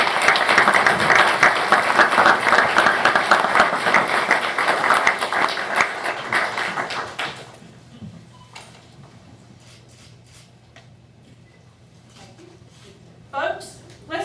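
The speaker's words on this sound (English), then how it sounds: "let's give a round of applause for all of them" Dense applause fills a board of education meeting room for about seven seconds, loud and continuous, then fades out into quiet room tone with a few scattered claps and small noises.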